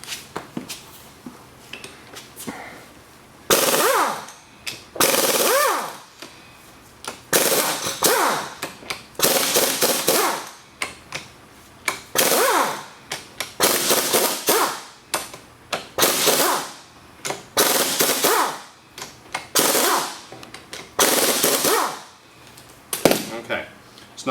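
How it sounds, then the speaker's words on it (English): A power tool rattles in loud, repeated bursts of a few seconds each as ring gear bolts come out of a MINI Cooper S differential, with short pauses between the bursts. "now we'll go ahead and take out the bolts around the ring gear"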